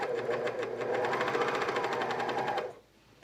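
A serger sewing a seam on leggings, a fast steady mechanical whir with an even rapid stitching rhythm running close for nearly three seconds before it stops abruptly.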